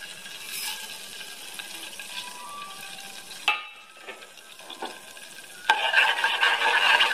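Cumin, nigella and fenugreek seeds sizzling in hot oil, a close crackling hiss broken by a few clinks, dipping briefly and then surging louder as the seeds hit the oil, with no voices.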